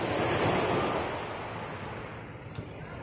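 Sea waves wash and roll along the coast at night off Maasim, Sarangani Province, a broad steady surf roar with wind buffeting the microphone, loudest at first and easing slightly, with no voices.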